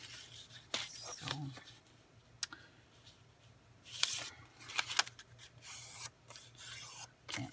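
Folded paper being cut along a crease for a journal, with quiet, scattered snips and rubbing scrapes that come close in uneven bursts, and a soft low hum underneath.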